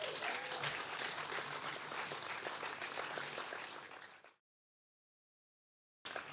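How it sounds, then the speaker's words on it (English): Blues Music Victoria Hall of Fame crowd applauds its three inductees with loud, sustained clapping that fades out after about four seconds, followed by a short silence before clapping resumes briefly. "Huge round of applause for our 3 inductees."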